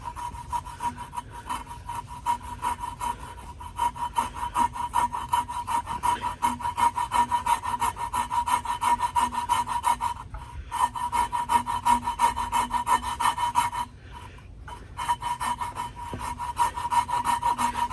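Steady back-and-forth sawing across a pipe held in a vise, a close, rhythmic rasp with even strokes that pauses briefly twice and then carries on, with no voices.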